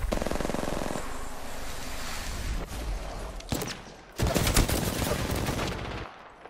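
Gunfire in a shooter video game, with dense bursts of automatic shots and booming fire, loud and continuous with a brief lull partway through.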